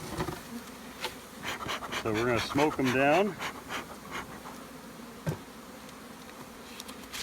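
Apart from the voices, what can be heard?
honey bees buzzing at a hive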